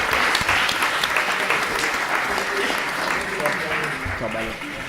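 Applause from an Italian amateur football club's season-preview gathering as two goalkeepers are introduced, a dense, steady clapping filling the whole stretch at close range and tapering slightly at the end.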